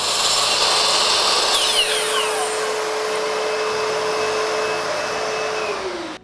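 A disc cutting machine slices through picture frame molding, a loud close whine with a rising grinding tone as the blade bites, then spinning down at the end.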